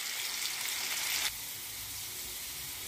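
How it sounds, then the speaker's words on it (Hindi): Cut potatoes with turmeric cooking in a pan for an aloo gobi dish, a bright steady sizzle that drops abruptly to a quieter muffled hiss partway through, with no talk. "ये देखिए, हमने इसमें आलू डाल दिया है, अब हम इनको आलू को ढककर पकाएंगे।"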